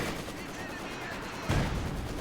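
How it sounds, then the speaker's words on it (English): A high explosive artillery barrage in the World War II strategy game Company of Heroes 2 lands as one sharp, heavy blast midway through a busy battle din of crackling fire and rumble. "Another high explosive barrage there."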